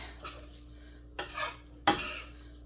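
Cooked pasta is tossed in a pan with a utensil, giving three brief scraping stirs, close and fairly quiet, against a low steady background with no talking.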